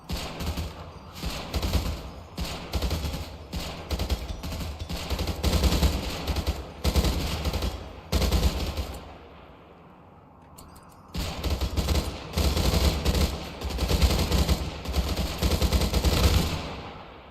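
Rapid bursts of gunfire from a Rimworld battle, volleys of overlapping shots and machine-gun rattle repeating in loud clusters, with a brief lull in the middle before heavy firing resumes.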